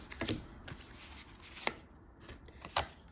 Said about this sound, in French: on va prendre deux petites cartes